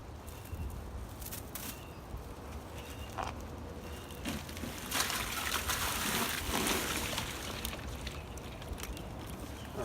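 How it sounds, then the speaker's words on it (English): Live crawfish tumble from an untied bag into a tub half-filled with water for a backyard crawfish boil, giving bursts of splashing and trickling amid clicking and rustling over several seconds. "just untie the bag and dump the crawfish in."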